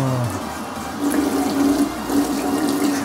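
Boiling water gushes steadily from an electric water heater tap, a close, continuous rushing pour with no talk.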